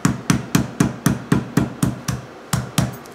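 Lemongrass stalks are struck to crush them for a Thai tom yum broth, about a dozen sharp, close thuds falling in a steady rhythm roughly four times a second, with no talking.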